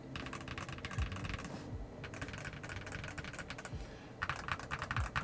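Typing on a keyboard with Moondrop Tessence tactile switches and black-on-white double-shot PBT keycaps: a steady, fairly quiet stream of soft clacky keystrokes with a brief pause and occasional deeper thocks from larger keys.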